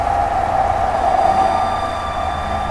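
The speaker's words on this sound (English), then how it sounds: "Hello, red tram!" A red tram in a Roblox game rolls past on the Mitcham Junction to Addiscombe route in Croydon, a steady rumble and hum that holds loud and continuous with no pauses.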